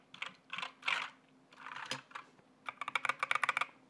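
Quick bursts of typing on a computer keyboard, clacky keystrokes in short runs with brief pauses, ending in a rapid flurry, close and fairly quiet.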